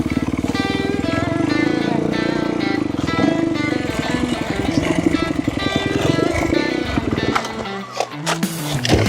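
A Kawasaki KX250F dirt bike engine revs and putters close by in a wooded setting, its pulsing rhythm rising and falling before it sputters and cuts near the end, with a voice briefly audible.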